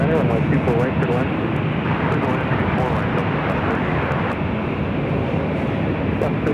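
An airliner on final approach to land on runway 24 right at Los Angeles International Airport, heard as a loud, steady jet roar that holds for the whole stretch while voices talk over it.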